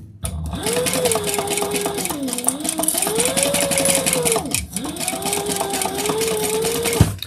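A sewing machine basts fabric in a steady, fast mechanical run, its motor pitch rising and falling as it slows and speeds up, with a brief pause midway before stitching resumes.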